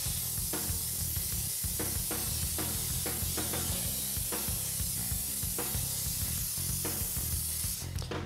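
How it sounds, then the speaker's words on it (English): A steady, forceful hiss of compressed air blowing off soapy water runs continuously, with faint rattling and bursts layered over a low rumble. "Put a little soap and water on there, hook up some air, and blow it off."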